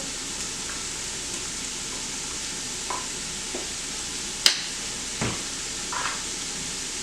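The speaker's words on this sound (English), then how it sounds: "at this point I'm going to add a little bit of garlic in" Garlic added to a pot of softened vegetables for canned red beans and sausage: a soft steady sizzle with scattered stirring scrapes and a sharp metallic clink midway, no talking.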